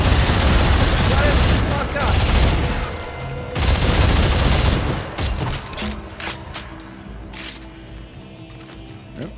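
Heavy gunfire from the video game Dead Space 3: loud, rapid volleys and booms that break off, then return as sparser shots and mechanical clanks, with players talking over the action.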